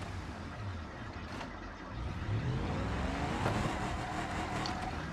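An off-road build driven in the BeamNG driving game backs up, its engine note rising and holding steady with a gravelly whine, loud and continuous with no voices.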